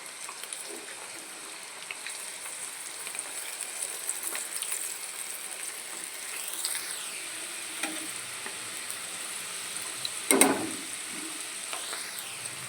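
Chana dal chegodi fritters frying in hot oil, a steady soft sizzle and crackle throughout at moderate level, with a brief louder burst of bubbling near the end.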